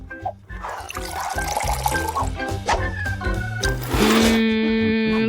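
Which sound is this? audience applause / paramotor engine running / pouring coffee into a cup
pouring coffee into a cup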